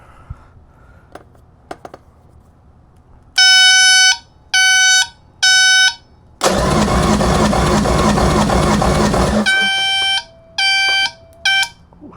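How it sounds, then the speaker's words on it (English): Loud, piercing electronic beeps from a tester during cylinder checks on used Yamaha boat motors, in short bursts, three separate tones, then a long continuous blast, followed by three more beeps, close and harsh. "That beep is loud."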